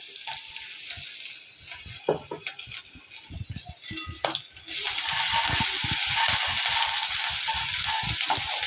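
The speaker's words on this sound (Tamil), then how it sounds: "இஞ்சி பூண்டு போட்டு லைட்டாக அது ஃப்ரை ஆன உடனே சிம்மில் தான் வச்சுருக்கேன்னா" Ginger and garlic fry in a pan of oil for idli 65, a steady hissing sizzle with a few clinks and knocks, swelling into a louder, denser sizzle partway through.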